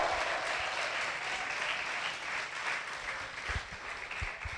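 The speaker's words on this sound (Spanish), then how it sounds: "Fuerte ese aplauso al Señor." A church congregation applauding during a worship service, a thick, continuous wash of many hands clapping that holds steady throughout with no voices on top.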